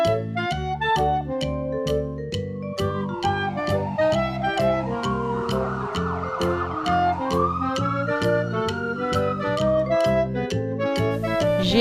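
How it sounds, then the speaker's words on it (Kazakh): An ambulance siren wails nearby, loud and continuous, its pitch rising and falling in a repeating cycle with an added swooping tone through the middle, heard alone without talk. "Жедел жәрдем көлігі."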